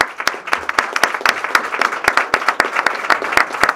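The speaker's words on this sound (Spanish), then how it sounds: "Un aplauso para Paolo Gassi." A crowd claps steadily, a dense, continuous round of applause with no voices.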